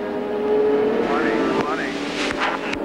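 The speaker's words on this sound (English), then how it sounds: "They all tighten up behind the pace car." IndyCar race cars bunch up behind the pace car at Laguna Seca, engines droning and shifting pitch as they pass, with a couple of sharp bursts near the end over a steady background roar.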